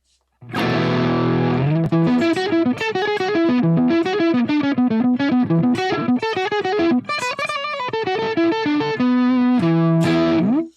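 Heavily distorted electric guitar played through effects, with chords and ringing single notes in a steady riff, loud and close, and no voices.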